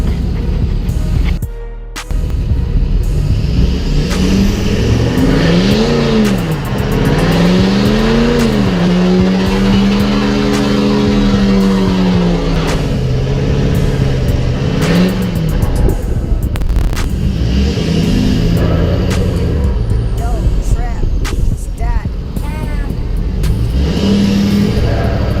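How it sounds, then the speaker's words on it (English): A truck engine revs hard and repeatedly during a burnout at a truck scene meet in Dallas, rising and falling in loud, close surges with some tire squeal amid crowd background noise. "I know a lot of y'all want to see a burnout."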